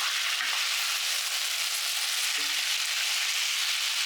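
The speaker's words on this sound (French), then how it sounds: "quand mes pièces de viande sont bien saisies" Beef pieces for a Flemish carbonade sear in a pan on a hob at high heat, giving a steady, loud, continuous frying sizzle throughout, with a couple of faint clinks and no talking.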